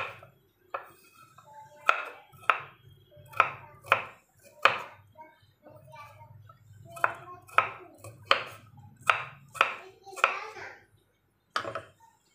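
Knife chopping watermelon rind into small pieces for tutti frutti on a cutting board, a steady series of sharp close thuds in irregular bursts with brief pauses between groups.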